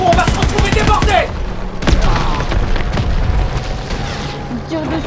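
Battle din from Call of Duty WWII: sharp gunshot cracks and booming explosions burst out, with bursts of rapid fire and a loud blast near the middle, mixed with voices talking.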